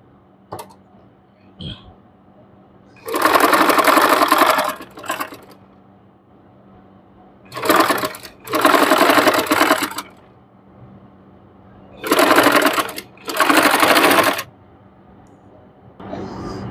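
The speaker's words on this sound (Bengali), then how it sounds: "তো দেখুন আমি মুড়িয়ে সেলাই করে দেখাচ্ছি।" A sewing machine stitches a folded-over dress neckline in four loud bursts, two short runs and then pairs of longer runs separated by quiet pauses, with small handling clicks in between.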